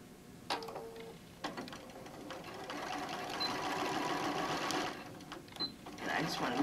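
A sewing machine runs a quarter-inch seam down a fabric wine bottle bag, a steady whirring stretch after brief starts, with a person talking nearby.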